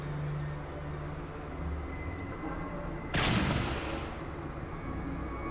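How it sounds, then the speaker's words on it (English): A single loud hunting rifle shot in the video game Fallout 2 cracks out midway with a fast-fading tail, over a low steady game ambience. "Let's use a hunting rifle instead."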